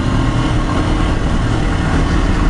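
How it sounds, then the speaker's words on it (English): Constant low drone of a Kawasaki Versys-X 300 twin-cylinder motorcycle engine riding through sand, loud and close, holding a steady rumbling tone throughout without pauses or voices. "the engine's got a real nice sound to it"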